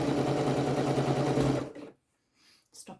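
A sewing machine stitches a French seam for a pocket bag opening, a fast steady whirring hum for about a second and a half that then stops, followed by near silence and a few faint handling noises.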